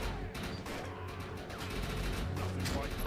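Dense, continuous gunfire rattles under a low rumbling backdrop, with a constant layered barrage of shots and no clear pauses.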